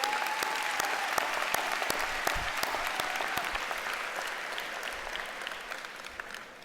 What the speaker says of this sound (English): Please give again the faculty and staff a huge round of applause.